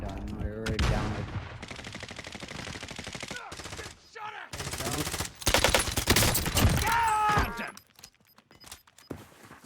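Rapid automatic gunfire in Warzone from an Uzi-style weapon, loud dense bursts crackling in sequence with brief pauses, under excited voices talking.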